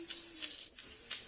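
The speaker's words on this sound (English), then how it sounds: "I'm just going to spray them with a little bit gold spray." An aerosol can of gold floral spray hisses in short bursts onto a flower arrangement set in floral foam, a soft close airy spray that pauses briefly between passes.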